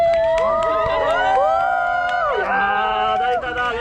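Wedding guests cheer and shout together during a photo shoot, a loud, excited burst of overlapping voices and whoops that shifts in pitch partway through.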